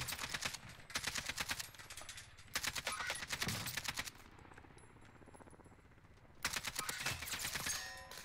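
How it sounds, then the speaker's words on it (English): AK rifle gunfire in a video game, fast automatic bursts of rapid cracking shots in three sustained strings separated by short quiet gaps, close and moderately loud, alone without talk. "I'm using a gun with some pretty good recoil on it. It's an AK, you know."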